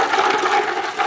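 Ice water is poured into a bucket of turkey brine, giving a brief, steady splashing gush of liquid at close range with no one speaking.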